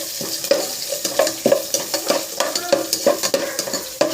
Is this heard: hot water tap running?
no